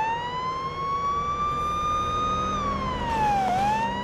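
Police car siren wailing continuously in the Police Simulator patrol game, a steady loud rising tone that sweeps down and back up near the end, heard alone over low engine rumble.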